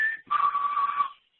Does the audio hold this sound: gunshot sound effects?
no